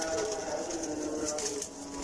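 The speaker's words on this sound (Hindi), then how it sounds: "तमाम के तमाम मिक्स ब्रीड के कबूतर हैं जी" Mixed-breed pigeons, including teddy, salare teddy and golden types, coo softly in a loft, their soft calls overlapping steadily against a low background hum.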